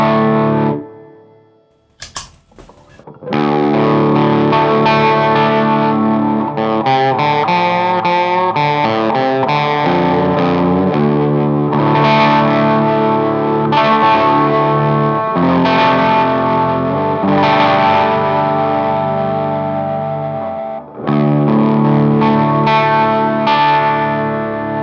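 After a short scrape and pluck, an electric guitar plays thick, shimmering doubled chords through an SBLB Copy That doubling pedal with distortion, loud and sustained, pausing briefly near the end.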